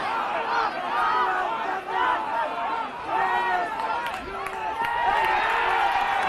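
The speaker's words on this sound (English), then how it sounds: "A crowd roaring for Pat McAndrew to be sent off." Spectators at a Gaelic football club final, Crossmolina against Corofin, roar and shout in a dense, sustained crowd din with individual yells poking through, loud throughout.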